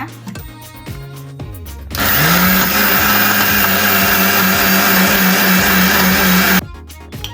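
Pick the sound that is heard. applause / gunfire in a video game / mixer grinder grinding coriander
mixer grinder grinding coriander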